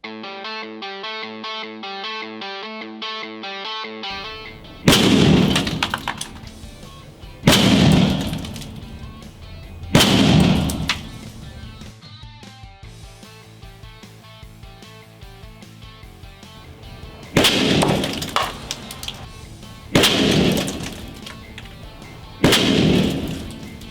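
An Airforce Texan .357 airgun with a 24-inch barrel fires air bolts and slugs at a range, giving six loud, sharp reports spaced a few seconds apart after a short stretch of music.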